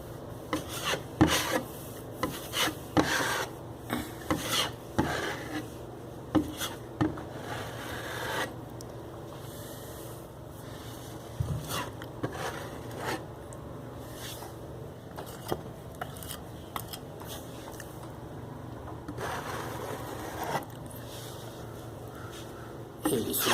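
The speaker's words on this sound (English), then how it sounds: "More pressure to fill it in, and then very light pressure across to take the excess off." A putty knife spreads filler into small drywall holes before painting, making close, dry scraping and rasping strokes in uneven bursts, heavier pushes alternating with lighter skims, with no talking.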